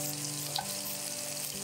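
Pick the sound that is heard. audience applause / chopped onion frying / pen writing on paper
chopped onion frying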